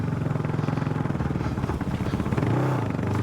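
A Kawasaki KLR 650 single-cylinder motorcycle chugs along off-road through snow, mud and gravel, its engine pulsing in a rough, uneven beat with clattering and wind buffeting, then revving slightly higher.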